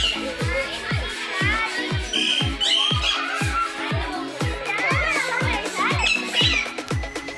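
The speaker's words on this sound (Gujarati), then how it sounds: "અહીંયા શક્કરબાગમાં તમને ઘણા બધા પ્રકારના પોપટ જોવા મળે છે." Parrots of many kinds squawking at Sakkarbaug zoo in Junagadh, a busy mix of harsh, repeated calls with steady rhythmic thumps underneath and some voices in the background.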